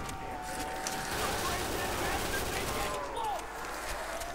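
Video game gunfire from a UMP in Call of Duty zombies mode: rapid bursts of automatic fire mixed with game noise and a talking player, moderately loud throughout.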